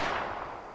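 Single rifle shot from a .375 Holland & Holland in the hunting game Way of the Hunter: a loud, close report at the start that decays into a fading rumble over under a second.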